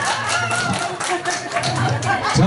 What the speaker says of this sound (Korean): 자, 오늘 다시 한번 박수!